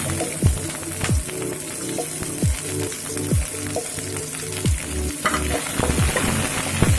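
Bay leaf, dried red chilies, green chilies and onion frying in a pan for a ridge gourd curry, with a steady sizzle broken by repeated scraping stirs of a spoon at an uneven rhythm, close and clear.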